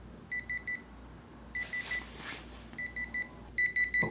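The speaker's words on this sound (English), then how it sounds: "let's listen to the sound of the alarm." A Westclox Model 71036 alarm clock beeps in quick bursts of three high-pitched tones, repeating with short pauses, loud and close, with a faint rustle in between.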